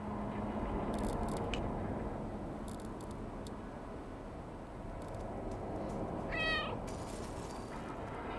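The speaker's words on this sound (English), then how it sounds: "apparently somebody knows there's a cat skulking about" Cat meowing in the video game Stray, one short, clear meow rising above a constant low ambient hum and scattered faint clicks.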